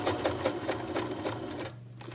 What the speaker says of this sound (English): I'm just putting stitches around the flap just for looks.